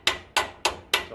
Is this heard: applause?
no